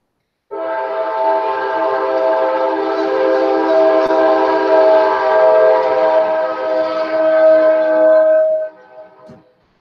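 A Kansas City Southern railroad train sounds its horn: one sustained, chord-like blast held for about eight seconds, loud and clear, cutting off with a short fading tail and no talking over it.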